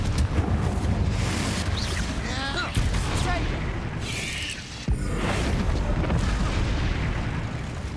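A blasting-spell explosion from the Hogwarts Legacy wizard game goes off in a dusty old chamber, giving a loud boom that rumbles and crackles for several seconds, with a sharp second impact near the end and game voices mixed in.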